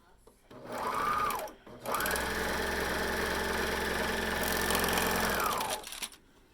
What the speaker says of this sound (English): we're going to sew that at the short ends with a 1/2 inch seam allowance